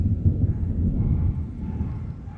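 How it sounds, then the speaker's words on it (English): Distant thunder rolls as a low, soft rumble that swells and fades over a couple of seconds, heard alone outdoors without talking. "Did you guys hear that thunder?"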